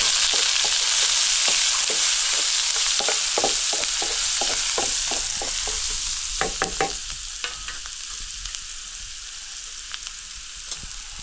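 Garlic and onion fry steadily in hot oil with mustard seeds and cumin, a loud continuous sizzle broken by quick irregular crackles and stirring scrapes, easing slightly toward the end.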